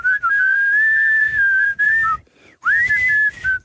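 A person whistles the tune of the song Working Class Man, loud and close, in two clear melodic phrases separated by a short pause.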